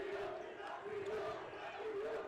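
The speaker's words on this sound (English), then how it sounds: "You hear the student band for A&M Commerce cheering on the Chargers' defensive effort." The A&M Commerce student section cheers at a college basketball game against the Chargers, a sustained crowd roar with rising and falling chant-like shouts, steady and fairly distant.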